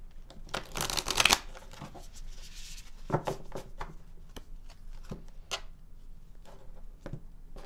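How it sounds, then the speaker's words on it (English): A deck of cards is shuffled up close, a quick riffle burst followed by scattered crisp snaps and taps as the cards are handled. "shuffle the cards and see what is going on here."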